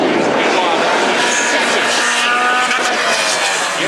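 Hornet class race cars at the end of a heat race roar past in a loud, continuous wash of engine noise, with an announcer talking over them throughout.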